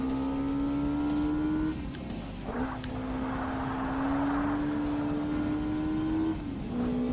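Race car engines drone continuously in Forza Motorsport on Xbox during a Lotus Exige Cup race, a loud sustained engine whine climbing in pitch through the gears with brief drops at shifts and tire noise mixed in.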